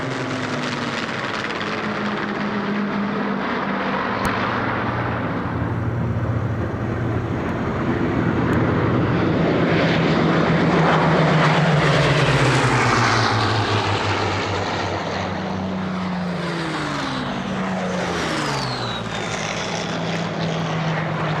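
Three Hawker Hurricane propeller fighters fly past in formation at a British airshow, a loud, sustained engine drone that rises and swells as they pass overhead, with shifting pitch as they recede.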